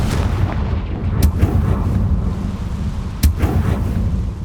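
Confringo, the fiery explosive spell from the video game Hogwarts Legacy, cast twice with two sharp booming blasts over a low rumbling background.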